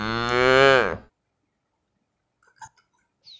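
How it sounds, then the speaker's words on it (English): A cow gives one loud, close, drawn-out moo that falls in pitch and stops after about a second, followed by near silence with a few faint clicks. "cow,"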